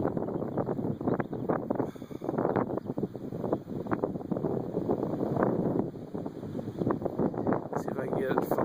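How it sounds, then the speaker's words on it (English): Strong gusty wind on a bad windy day in California buffets a handheld camera's microphone with a continuous, loud, roaring rumble that swells and dips over several seconds, with no clear speech. "So that wind's blowing so hard I can't even hold the camera straight."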